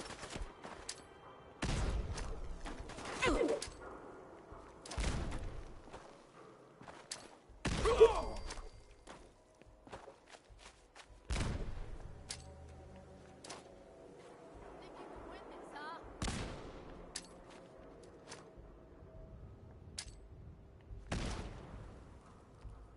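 Gunfire in the video game Fallout 4, with scattered sharp shots and short bursts at uneven intervals amid combat, while voices call out between them.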